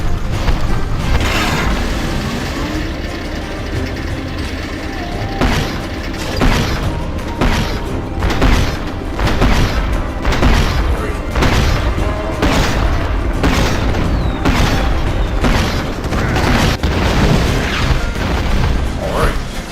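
Repeated cannon shots aimed at an elite airship in Skylanders: Spyro's Adventure: loud booms and crashes at an irregular beat over a steady mechanical rumble and game music, with faint voice sounds now and then.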